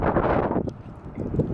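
Cold gusty wind on a rooftop car park buffeting the microphone, a broad rushing roar that eases briefly in the middle before swelling again.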